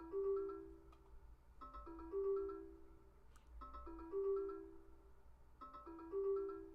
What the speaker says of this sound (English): I feel like it's an alert going off